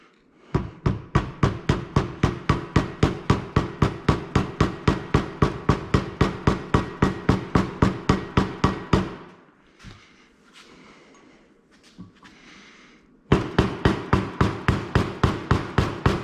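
Hammer blows knocking out suspension bushings on a Polaris Turbo S, a fast even run of sharp metallic strikes up close, a quiet pause with faint shuffling, then another rapid burst of strikes.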